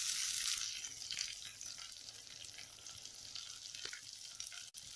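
Fifteen small onions sautéing in hot oil with garlic in a pan for dried-fish curry, a steady close sizzle throughout with occasional stirring scrapes and no talking.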